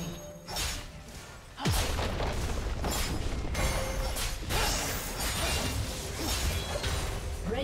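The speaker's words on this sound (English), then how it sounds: "Red team's turret has been destroyed." A turret crumbling in League of Legends, with a deep boom and crashing debris after a quieter stretch, followed by continuous loud rumbling and clattering game effects.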